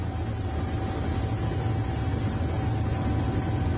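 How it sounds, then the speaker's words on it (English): A helicopter flying close overhead in footage from an encounter with an Iranian vessel, a steady loud broadband roar with heavy low rumble throughout, no speech. "So this is a full-blown helicopter here"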